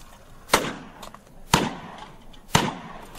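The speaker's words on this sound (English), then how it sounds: "I'm drawing the gun, shooting, and I'm shooting at different cans, different heights, different angles, different levels" Three sharp handgun shots fired at cans ring out about one second apart, each a loud crack with a short fading tail and no talking between them.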